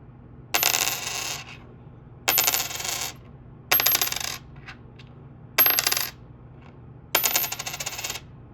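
Several separate nickel coin drops, each a bright ringing ping that fades out, spaced a second or two apart against quiet background hum.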